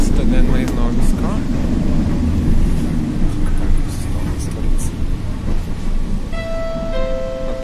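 A Pesa Twist 71-414 Fokstrot tram running at night, its low steady rumble and rolling noise continuing throughout, with a faint tonal whine near the end and a voice talking at moments.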